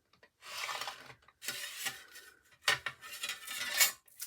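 A craft knife drawn along a ruler through paper: several short scraping, rasping strokes separated by brief pauses, close and fairly crisp, with no talking.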